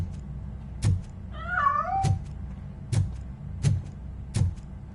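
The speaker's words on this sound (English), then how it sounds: "That cat must be hiding inside." A single cat meows once, a drawn-out wavering call, amid a few sharp knocking thuds spaced about a second apart.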